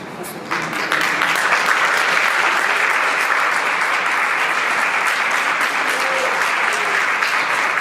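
Wedding guests applaud and cheer at a town hall ceremony, steady dense clapping starting abruptly and holding loud throughout, with faint voices mixed into the crowd noise.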